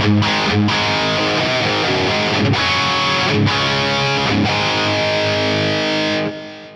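A heavily distorted electric guitar through a Fractal Audio FM9 with a Marshall-style amp tone rings out with chunky, saturated chords, loud and sustained, then fades at the end.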